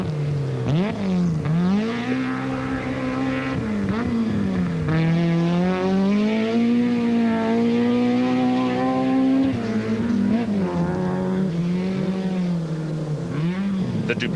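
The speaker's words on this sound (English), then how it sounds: "You can hear them struggling to get drive just as the differential is about to break" A Subaru rally car's engine at the 2004 Rally of South Africa revs and bogs, rising and falling in pitch as it struggles for drive with a failing differential, loud and continuous, with no voices.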